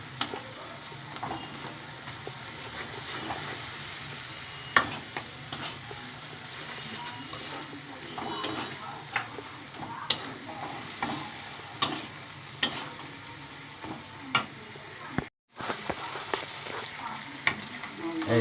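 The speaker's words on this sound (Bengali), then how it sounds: "একসাথে দিয়ে সুন্দর করে মশলাটা কষায় নেওয়া হচ্ছে" Spice masala for a bhola (poa) sea fish bhuna curry is stir-fried in oil, a soft steady sizzle broken by repeated scraping and spatula knocks against the pan, close and unhurried, with no voices.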